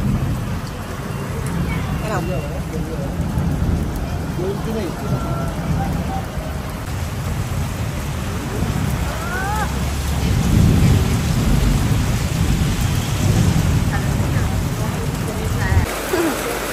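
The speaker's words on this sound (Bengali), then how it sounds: "আজকের এই বৃষ্টি থামার না, এ আর থামবে না" Heavy monsoon rain pours steadily outdoors at home, a dense roaring wash with rumbles of thunder rolling underneath, loud and continuous throughout.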